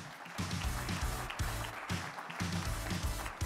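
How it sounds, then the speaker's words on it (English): An audience applauding at an engineering awards dinner: steady, moderately loud clapping from a crowd that continues for a few seconds without a break. "Give them another round of applause."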